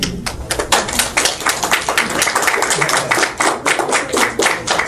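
An audience applauds with a dense, uneven patter of hand claps that keeps going through the whole stretch, fairly close and loud, with no voices over it.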